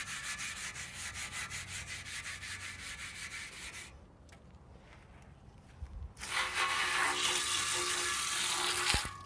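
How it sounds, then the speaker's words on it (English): Scrubbing a wet, dirty blue tractor, its rusty paint surface rubbed by hand in rapid repeated back-and-forth strokes, close and steady, with a short quieter pause before the brisk scrubbing resumes. "wet it down a little bit, and then you just scrub it."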